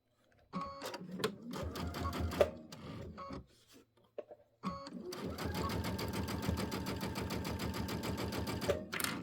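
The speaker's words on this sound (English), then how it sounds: "I'm going to sew from right here." A sewing machine stitches a quilted table runner, quick rhythmic needle clatter in two bursts: a stop-and-start run, a short pause, then a longer steady stretch, close and fairly quiet.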